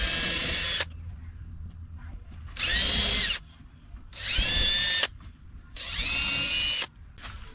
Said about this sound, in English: Got a little machinist pilot drill here